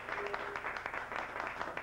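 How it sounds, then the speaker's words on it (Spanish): Audience applause at a tango event, a dense wash of many hands clapping steadily through the whole short stretch, moderately loud and without speech. "Un fuerte aplauso."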